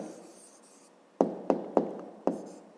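A pen writing an answer by hand on paper during a fifth-grade maths exercise, with four sharp taps or strokes spaced about a quarter second apart after a quiet stretch, close and alone.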